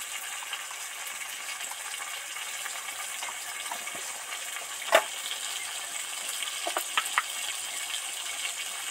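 Cumin, coriander and chillies sizzling in hot oil, a steady, even frying hiss that continues through the whole stretch with a few small pops and crackles, with one sharper spike partway through.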